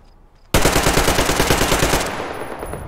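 Sustained automatic fire from a machine gun in the video game Metro Exodus, set in a desert, bursts in abruptly after a near-silent moment as a loud rapid stream of shots, easing off toward the end.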